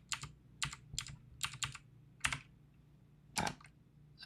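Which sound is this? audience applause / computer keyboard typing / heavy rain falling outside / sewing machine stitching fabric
computer keyboard typing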